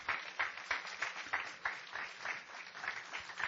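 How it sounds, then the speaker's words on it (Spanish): Church congregation clapping in a steady, rhythmic beat, each clap distinct and evenly spaced, fairly faint and with no talking over it. "Démosle un fuerte aplauso al Señor"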